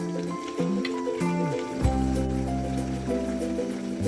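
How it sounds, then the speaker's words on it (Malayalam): Kottayam-style beef curry bubbling steadily in a pot on the stove, a continuous close liquid simmer with a faint tonal hum running underneath. "നന്നായി തിളച്ചിട്ടുണ്ട്."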